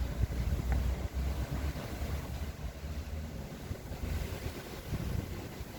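Steady, loud wind buffeting a phone microphone on a cold balcony among potted flowers, a rough continuous roar with gusty swells and no voices.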